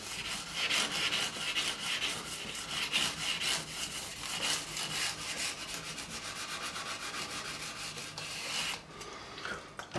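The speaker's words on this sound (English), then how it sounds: "Then I'll finish off again with the sanding block." Rhythmic back-and-forth scraping of a sanding block across the frets of a Fender Strat being refretted, close and fairly loud, with regular strokes that stop abruptly near the end.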